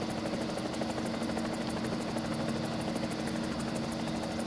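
An aircraft in War Thunder comes in to land with a steady, dense engine drone and a constant propeller-like hum that stays loud and unchanging throughout, with no talking.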